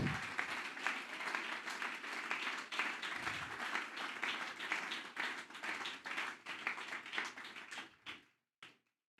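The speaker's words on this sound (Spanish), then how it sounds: "Denle ese aplauso a nuestro Dios." A church congregation applauds steadily for several seconds, the clapping thinning out into a few scattered claps at the end.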